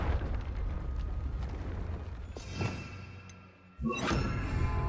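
A Confringo fire spell in Hogwarts Legacy goes off as a rumbling roar that dips briefly, then bursts into a loud, close explosive blast near the end.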